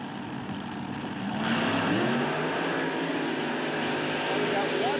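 Mud racing vehicles, one Ford-powered and one Chevrolet-powered, rev and race side by side at a drag-style track, their engines swelling into a louder continuous roar with rising pitch sweeps.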